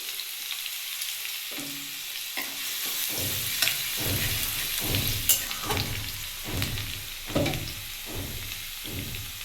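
Whole spices tempering in hot oil for a masoor dal and okra dish with katla fish, a steady close sizzle with repeated stirring scrapes breaking through in a regular rhythm, no voices.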